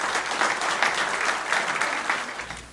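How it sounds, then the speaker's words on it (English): A room of listeners applauds a priest arriving to speak at a Serra Club gathering, with brisk, full clapping that stays strong and fades a little near the end, and no voices heard. "would you please give a round of applause as Father Murray talks about the current state of vocations"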